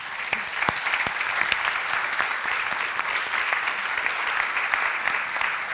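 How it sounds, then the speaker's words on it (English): Conference audience applauding speakers at a panel on EU-NATO crisis management, sustained, even clapping from many hands at moderate distance, holding steady for several seconds. "I believe they deserve a huge applause."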